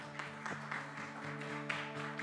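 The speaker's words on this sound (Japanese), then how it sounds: "今一度大きな拍手お願いいたします" Audience applause at the close of a Japanese conference session on digital asset infrastructure and CBDC, soft and fairly distant with a few sharper claps over a steady background tone.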